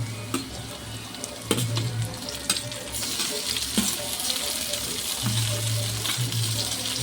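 Onions and tomatoes fry in a pan, sizzling steadily while a utensil stirs them with occasional scraping knocks and clicks against the metal, close and alone, no talking.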